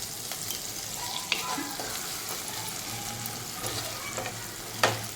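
Chopped onion sautéing in a pan with salt and a cut tomato for a Konkani-style chana dal curry, a steady close sizzle broken by occasional scraping stirs and a sharp clink near the end.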